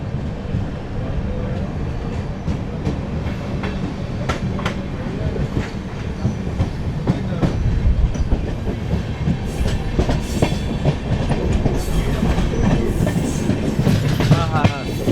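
The 12839 Howrah–Chennai Mail pulls away and runs on, its rumble building into a loud rhythmic clickety-clack of wheels over rail joints with intermittent clanks.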